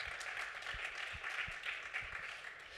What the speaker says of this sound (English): would we please give these gentlemen a nice round of applause?